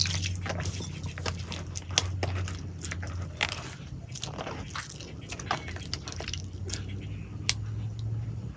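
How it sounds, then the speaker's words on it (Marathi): Wet squishing and dripping as bael fruit pulp soaked in water is squeezed by hand to press out the juice, soft irregular squelches and splashes close by, with a faint low hum underneath. "सगळं ज्यूस बाहेर काढून टाकतो आता"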